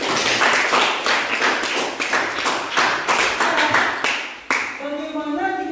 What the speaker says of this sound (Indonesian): Tepuk tangan untuk Faila.